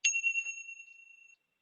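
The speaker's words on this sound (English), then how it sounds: "with the sound of the bells," A bell or singing-bowl chime struck once, ringing clear and sustained with a bright, steady tone that slowly fades away in an otherwise quiet calm setting, with no talking.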